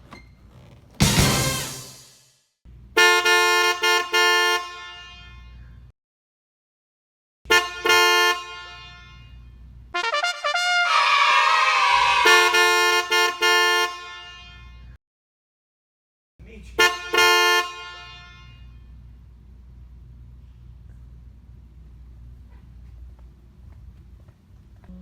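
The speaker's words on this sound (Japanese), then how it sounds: "エンジンの力よりクラクションの方がすごいね。" A powerful car horn blares in several separate blasts, some short and some held longer, with silent gaps between them and a low idling hum underneath.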